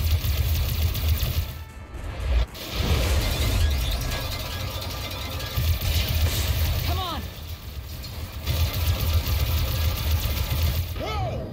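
A spaceship engine in Star Wars: The Old Republic drones in a steady, low rumbling hum, with a few brief chirping game effects and a person's voice over it.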